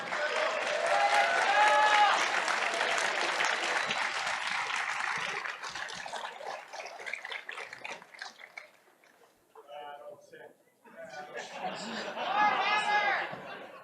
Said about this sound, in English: we're going to have one more clap off to determine our winner